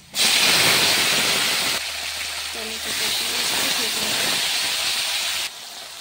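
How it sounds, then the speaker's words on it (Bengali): Tomatoes fry in hot oil left over from frying eggplant, for a Bengali sour fish and potato curry, giving a loud, steady, close hiss that drops slightly partway through and then cuts off near the end. "টমেটো একটু ভেজে নিয়েছি"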